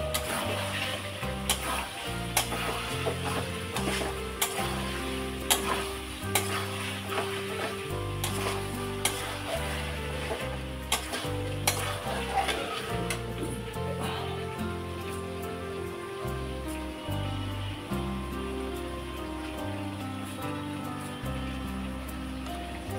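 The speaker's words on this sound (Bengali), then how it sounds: "দেখুন কেমন হচ্ছে আলুর দম কষা, এটা কাশ্মীরি স্টাইল আলুর দম হচ্ছে" Spiced potatoes sautéing in a pan for Kashmiri-style aloo dum give a steady, close sizzle with frequent stirring scrapes and clinks throughout, loud and continuous with no talking.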